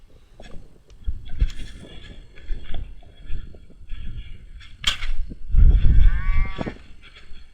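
Cows in a pasture moo repeatedly, with several loud, close, drawn-out calls overlapping over low rustling and movement, and a long, deep moo near the end.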